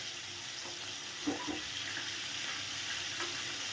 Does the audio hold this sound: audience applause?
no